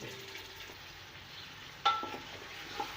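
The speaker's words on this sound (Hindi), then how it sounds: "इस तरह से हम गोश्त डालकर अच्छे से इसको भून लेंगे हाई फ्लेम पर" Beef nehari meat, bony cuts included, frying on high flame: a steady, fairly quiet sizzle with a sharp spoon clatter midway and a softer knock near the end.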